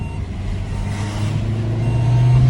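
Vauxhall Corsa 1.3 CDTI diesel accelerating, a loud, close engine drone rising steadily in pitch and strength over a couple of seconds, with no voices over it.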